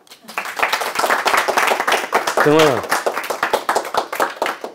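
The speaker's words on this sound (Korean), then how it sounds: "박수 안 쳐주십니까?" A lecture audience claps steadily and closely for a few seconds at the start of a talk on Walt Disney, with a brief voice rising in the middle of the clapping.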